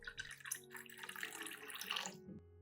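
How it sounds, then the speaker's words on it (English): Room-temperature water poured into a container to mix an orchid rooting solution, a short, close splashing pour that ends abruptly, with no talk. "add 500 milliliters of clean water at room temperature to mix the solution"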